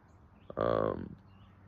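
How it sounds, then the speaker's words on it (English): A single loud, harsh bird call rings out briefly over faint background quiet. "that bird is really loud"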